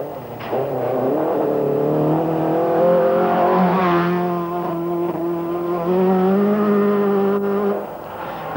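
A Nissan rally car from the 1985 Ivory Coast Rally pushes through mud, its engine droning close and loud with pitch rising and falling as it revs, steady for the whole stretch.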